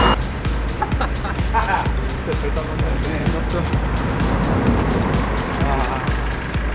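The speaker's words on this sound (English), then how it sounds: "lorry number 2 has arrived." A cargo lorry pulls in to unload beer brewing tanks at a store, its engine rumbling loudly and steadily with hissing and mechanical clatter close by throughout.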